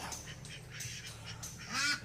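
Ducks quack quietly at a livestock yard, a few short nasal calls at a distance over low background noise.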